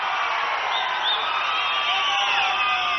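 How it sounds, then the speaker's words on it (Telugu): Large political rally crowd for CM Chandrababu, a dense, steady wash of cheering and whoops with clapping mixed in, loud and sustained throughout. "గట్టిగా చప్పట్లు కూడా చెప్పండి"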